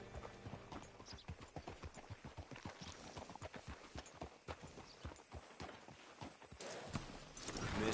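Horse hooves clip-clop at a steady walking rhythm in the video game Red Dead Redemption 2, a close, regular series of hoofbeats that continues throughout, with a louder rustling swell near the end.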